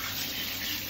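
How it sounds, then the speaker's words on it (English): Tap water runs steadily over a pug's underside during a seizure, a short, close, even gush with no talking. "I don't wash everything, I just wash the bottom."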